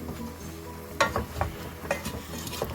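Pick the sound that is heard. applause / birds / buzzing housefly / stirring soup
stirring soup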